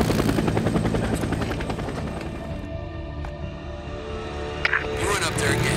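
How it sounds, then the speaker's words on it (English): Helicopter in the video game Days Gone flying overhead, a loud, steady rotor drone filling the whole stretch, with game effects and a few brief clicks over it. "Here, follow the chopper, got it."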